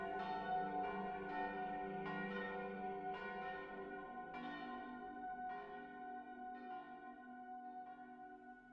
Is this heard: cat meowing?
no